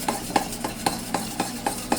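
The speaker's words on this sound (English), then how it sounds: "and give this a good mix." Lo mein stirred and tossed in a pan, a steady series of about eight evenly spaced scraping, clinking strokes of a utensil, close but fairly quiet, with no voices.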